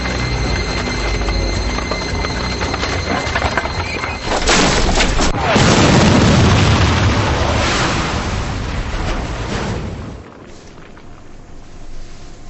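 A nitroglycerin blast opens with a sudden loud burst that swells into a long roaring rumble for several seconds, then drops away into a quieter hiss.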